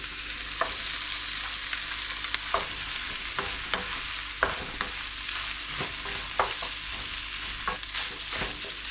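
Egg fried rice sizzles steadily in a hot pan while a spatula scrapes and stirs it, sharp clanks and scrapes recurring every second or so over the continuous frying hiss, close up.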